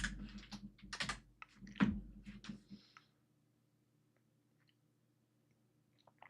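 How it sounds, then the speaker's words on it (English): Rapid clicking of keys on a computer keyboard for a few seconds, fairly close, then near silence. "what am I typing in?"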